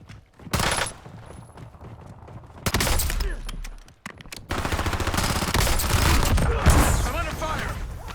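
Gunfire in Call of Duty Warzone comes as loud, close bursts of rapid automatic shots separated by short gaps, then turns into sustained firing with game voice lines underneath.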